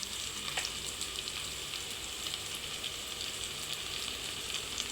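Onions and green chillies with curry leaves and salt fry in hot oil, a dense, even crackling sizzle that holds steady throughout, close and moderately loud.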